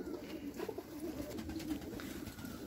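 Pigeons in a coop coo steadily, a low continuous burble of several birds close by with no talk over it.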